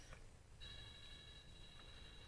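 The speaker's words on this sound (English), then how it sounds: "That's my phone." A mobile phone rings with a steady, bright electronic tone that starts partway through and holds to the end, faint against room noise in a makeup setting.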